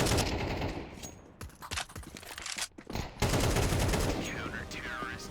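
Dense gunfire in Counter-Strike 2 at a Malta national qualifier match, rapid automatic bursts and single shots crowding close and loud, with game sound effects and a faint caster voice underneath.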